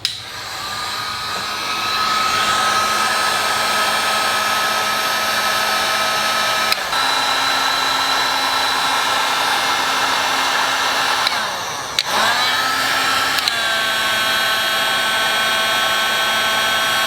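A heat gun blows steadily and loudly while shrinking heat shrink tubing onto a wire on a 2014 Ford Raptor, a continuous whooshing hum that briefly dips and wavers partway through before resuming.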